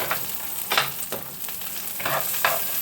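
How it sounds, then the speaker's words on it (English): Vegetables sizzle in hot oil in a big pan during a stir-fry, mixed with repeated scraping strokes as they are stirred. A steady frying hiss runs throughout, close and moderately loud, with no voices. "we've got the vegetables heating up in the oil. You can hear them."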